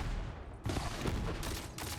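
Turrets open fire in Tiny Tina's Wonderlands, a sudden dense burst of rapid gunfire that cuts in after a quieter moment and keeps rattling in waves, fairly close.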